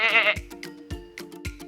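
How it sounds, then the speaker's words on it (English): A sheep gives a long wavering bleat, followed by a few sharp clunks and taps, the animal's cry loud and close at the start. "It's a sheep."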